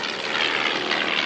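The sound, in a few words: propeller warbird aeroplane flying at an airshow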